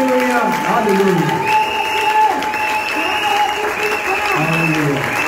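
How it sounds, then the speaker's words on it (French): Church congregation applauding and acclaiming the Lord: sustained, dense clapping from a large crowd, with cheering voices over it and a speaker talking throughout. "Au nom de Jésus, acclamons le Seigneur."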